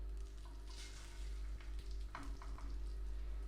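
Chicken thighs coated in flour and starch fry in a hot pan, a continuous close sizzle with brief louder crackles and stirring touches, no voices.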